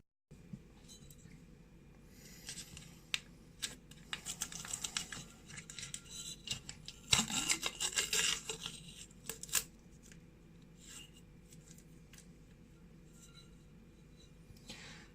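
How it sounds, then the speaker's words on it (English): Masking tape is peeled off a freshly restored and painted oil can, giving a quiet run of small tearing rips and light taps, with one louder stretch of peeling partway through. "So it's just a case of whipping the bits of tape off and putting the lid back on."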